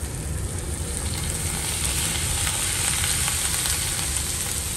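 Shrimp and peppers frying in a hot pan, a steady loud sizzle with crackling spatter that holds evenly throughout, no voices over it.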